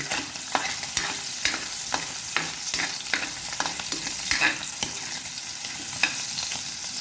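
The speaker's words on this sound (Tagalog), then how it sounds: "kumukulo na ang ating kanin para sa tanghalian" Rice boiling in a pot on the stove while lunch is cooked, a steady bubbling with scattered sharp pops and ticks, close and fairly quiet, with no talking.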